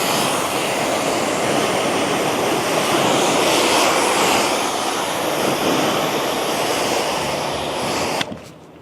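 Water rinsing a convertible car's fabric top, a steady loud hiss and spray that runs unbroken before cutting off near the end.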